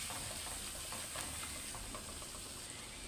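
Turmeric and onion paste frying in a pan, a soft, steady sizzle and bubbling that runs evenly throughout at a low level, with no one talking.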